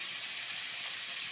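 Fish coated with turmeric frying in hot oil in a pan, a steady, faint, even hiss with no breaks and no voices.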